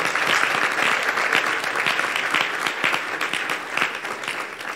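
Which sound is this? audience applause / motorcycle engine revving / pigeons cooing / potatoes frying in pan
audience applause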